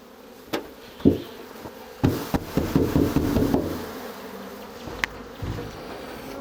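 Bees buzz close by with a low droning hum, punctuated by a few sharp knocks and taps; no talking.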